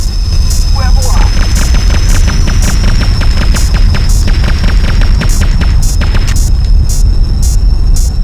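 Rapid rhythmic missile launches and explosive booms from the PS1 game Independence Day, a steady dense barrage with repeated sharp bursts over a constant high whine, loud and continuous throughout.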